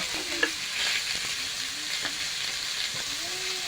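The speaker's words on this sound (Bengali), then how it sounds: "আমি একটু ভেজে নিয়েছি তরকারিটা" Potato and pointed gourd curry fries in a pan, giving a continuous close sizzle with occasional scraping stirs and soft clinks.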